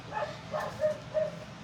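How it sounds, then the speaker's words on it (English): A dog barks outdoors, a few spaced, moderately distant yips and bow-wows carried across a road, faint against a quiet background. "My dog is out there barking at somebody across the road in their truck with the dog."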